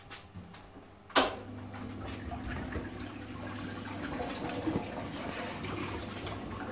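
A homemade vapor blaster cabinet fires up with a sharp hiss, then sprays water steadily through a new nozzle, a continuous close rushing wash with no talking.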